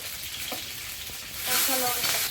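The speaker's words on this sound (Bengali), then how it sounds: "তেল দিলাম কলার তরকারিটা আগে করবো একটু কালো জিরে তেলে" Nigella seeds sizzle in hot oil in a wok, a soft steady frying hiss that swells louder toward the end, heard alone with no talking.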